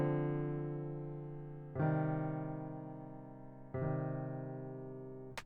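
Soft piano notes from a humanized melody with varied velocity, three sustained tones each struck and slowly decaying, quiet and close, with no voice.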